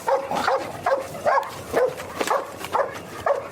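A dog in a scene from the Last of Us TV show barks and whimpers in short repeated bursts, fairly close and moderately loud, with no voices over it.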